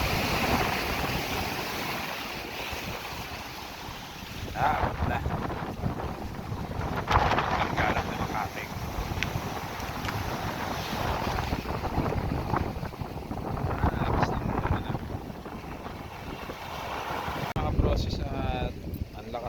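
Strong wind gusts roar across the microphone by the sea near a boat shelter, with waves and a voice speaking briefly under the rushing noise.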